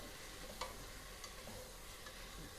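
Orange peels sizzle softly in oil in a pot while being stirred for chicken kabsa, a faint continuous frying hiss with a few light scrapes.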